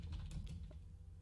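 Keystrokes on a computer keyboard while ad copy is entered, a quick run of soft, close clicks over a steady low hum, with no voices.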